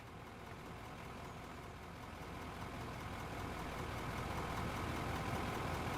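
A vehicle engine idles in the mining game Out of Ore, giving a steady, low, rumbling drone that grows slightly louder over a few seconds with no talk over it.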